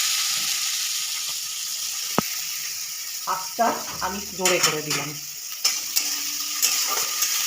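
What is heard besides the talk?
bay leaves and chopped onion frying in hot oil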